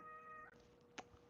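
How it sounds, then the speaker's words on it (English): A quiet, short meow from a cat nearby, with a soft chirp following, heard in an otherwise quiet basement. "what are you meowing for?"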